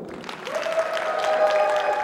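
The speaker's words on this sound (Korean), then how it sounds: "박수로 함께 하겠습니다" An audience at a teachers' science lecture competition claps steadily in a hall, a dense patter of applause under a sustained tone, fairly close and moderately loud for about two seconds.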